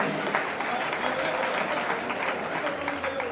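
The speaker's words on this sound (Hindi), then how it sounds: "तो एक बार जोरदार तालियां बजनी चाहिए।" Vigorous applause from a large audience at a Jain kalash installation ceremony in Lalitpur, Uttar Pradesh, a continuous dense clapping with a faint voice underneath.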